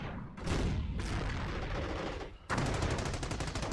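Machine gun and mortar fire in a strategy video game, dense rapid bursts of gunfire with heavy booming impacts, loud and close, one burst fading before another volley kicks in sharply.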